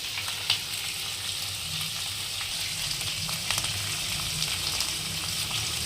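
Onion and garlic fry in a hot pan, a dense, steady sizzle and crackle running throughout with faint stirring, no voices over it.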